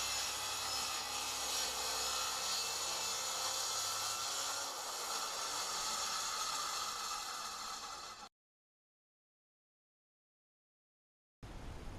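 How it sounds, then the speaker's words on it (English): A circular saw rips through a sheet of plywood along a clamped guide rail, its loud steady whine and rasping cut running for about eight seconds before stopping, then briefly starting again near the end. "position the guide rail against these marks, clamping it in place and making the cut"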